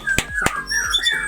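A white-rumped shama repeats sharp, loud whistled angry territorial calls, two abrupt bursts followed by rising and falling whistles, close by and clear.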